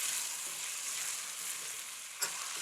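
Aloo potatoes fry in a pan for a vegan curry, giving a steady soft hiss of sizzling oil with one brief stir-like clack near the end, quiet and close.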